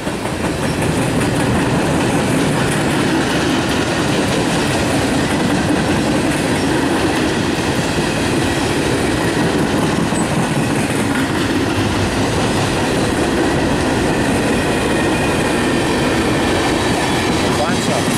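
A long freight train of empty railroad cars rolls steadily past nearby, with a loud continuous rumble and clickety-clack of wheels on rail joints for the whole stretch, and faint voices now and then over the noise.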